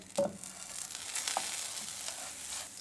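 A frying pan with a spoonful of oil heating for a semolina dessert, a soft steady sizzle up close after a sharp clink of a utensil near the start, with no talk.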